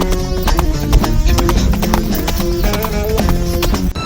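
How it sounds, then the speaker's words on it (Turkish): A donkey trots past in PUBG Mobile, its hooves clip-clopping steadily in a quick rhythm, loud and near against a dense bed of music and game sound, with a faint voice partly underneath. "o geçen bir eşek miydi?"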